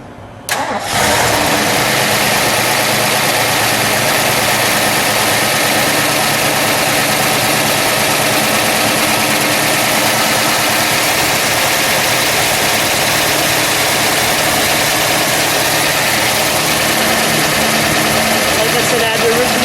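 A 1971 Ford Boss Mustang 351 V8 engine cranks and catches, then settles into a loud, steady rumbling idle that continues close by.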